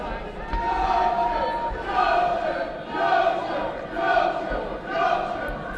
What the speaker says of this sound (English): Crowd chanting and getting behind Needham